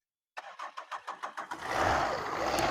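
A Tata Indigo diesel car with a Dicor engine starts: about eight rhythmic starter cranks, then the engine catches and settles into a loud, steady diesel idle nearby.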